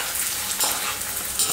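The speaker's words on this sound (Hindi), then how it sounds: "अब हम कॉर्नफ्लेक्स इसमें तलेंगे," Cornflakes fry in hot oil in a kadhai for crispy Maharashtrian chiwda, producing a loud, steady, close hiss and crackle that runs throughout.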